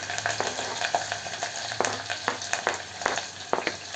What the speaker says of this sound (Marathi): कढीपत्ता टाकला की लगेच आपण कांदाही टाकूया त्याच्यामध्ये बारीक चिरलेला कांदा आहे